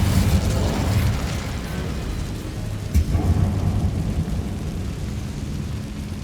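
An Incendio fire spell cast in the Hogwarts Legacy video game inside a tall tomb room, a loud, rumbling burst of flame that roars steadily, swells briefly at the midpoint and keeps crackling throughout.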